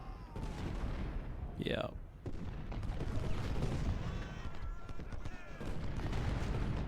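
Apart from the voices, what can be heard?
gunfire in video game Ultimate General: Civil War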